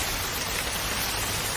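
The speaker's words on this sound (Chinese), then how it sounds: "这下雨了" Steady, dense rain pours down outdoors during a thunderstorm, a continuous close hiss with no pauses.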